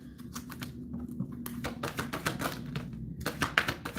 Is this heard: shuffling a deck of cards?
yes